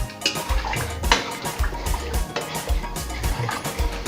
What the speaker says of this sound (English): Now you have to add enough water.